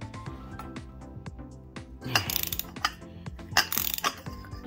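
Ratchet wrench with a 5/8 socket working head bolts loose on a Detroit 60 Series 14-liter diesel engine teardown, rapid close clicking with a few sharper metallic pops as bolts break free.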